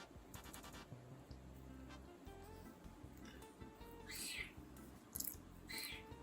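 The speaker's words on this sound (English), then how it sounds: "Kitty meowing." A house cat meows several times at low level, short rising calls spaced apart in a quiet room, with faint background noise between them.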